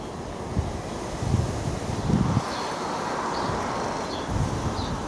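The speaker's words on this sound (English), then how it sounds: "the wind is very, very rough at the moment" Strong, rough wind blows across an outdoor allotment, a continuous broadband rush with heavy low buffeting gusts striking the microphone several times, loud and steady with no voices.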